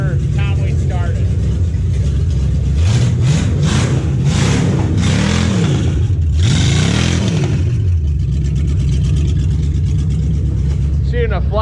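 A car engine runs loudly and close, revving up and down in several rising and falling sweeps in the middle before settling back to a rough, steady idle, with a person speaking over it at the start and end.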